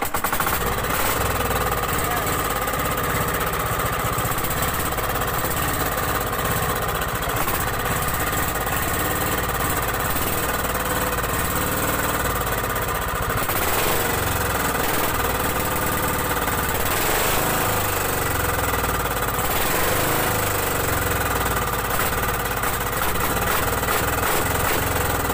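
A faulty outboard motor on a small wooden banka boat runs steadily and loudly throughout, a rough, continuous mechanical drone with no speech over it.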